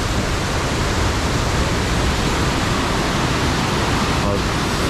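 Månefossen waterfall near Stavanger roars as a dense, loud, unbroken rush of falling water, heard close up and filling the whole scene without letup.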